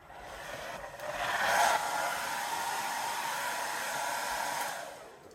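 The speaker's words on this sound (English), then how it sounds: "I'm going to dry it with my hairdryer." Handheld hair dryer blowing on painted Dollar Tree Halloween decor, a soft steady whoosh that swells as it nears, holds level, then fades at the end, with no voices.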